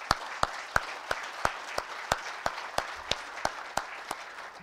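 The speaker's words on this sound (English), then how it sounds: "So if we can do a round of applause, please." An audience at a speaker event gives a round of applause, heard as a series of distinct sharp claps at a steady, fairly quick rhythm rather than a dense roar, moderately close.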